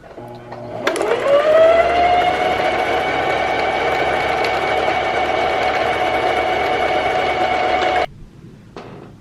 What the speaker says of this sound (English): first I have to thread a bobbin